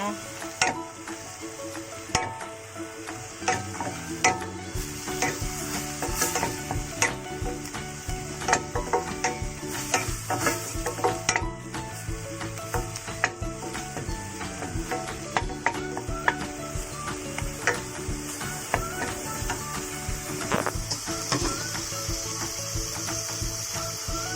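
Homemade paste fries in a pan until brown, a busy sizzle with frequent scraping and clinking of a utensil stirring against the pan, close and fairly loud throughout.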